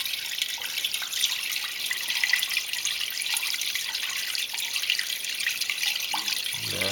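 Water trickles and splashes steadily from a hole in a flooded basement floor, a continuous close hiss with no pauses or talking.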